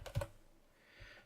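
A couple of quick keystrokes on a Commodore 64 computer keyboard, close and fairly faint, with a brief quiet gap between them.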